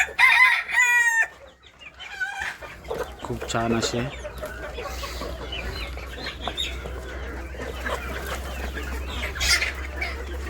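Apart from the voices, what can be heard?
multicoloured rooster crowing and chickens clucking on a farm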